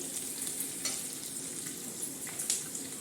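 Chopped onions fry in oil for jowar flour upma, a constant close sizzle broken by scraping strokes as a spoon stirs the pan, with no speech.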